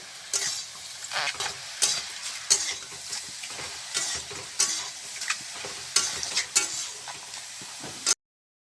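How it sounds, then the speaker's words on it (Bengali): Wild jungle mushrooms, salted in a pan, are stirred with repeated sharp scrapes of a utensil over a soft, steady sizzle; the strokes come in an irregular rhythm, close and clear, then stop abruptly. "এটাকে লাড়াচাড়া আমি করে নিচ্ছি"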